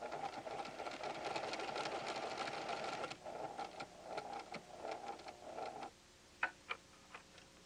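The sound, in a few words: PFAFF creative 7550 sewing machine sewing cross stitch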